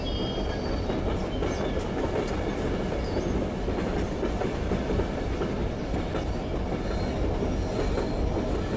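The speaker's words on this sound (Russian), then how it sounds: "Обожаю на поездах проезжать мосты." A train rolls across a bridge in Zompiercer, a continuous loud rumble of wheels and clattering rail noise that stays steady throughout with faint squeals on top.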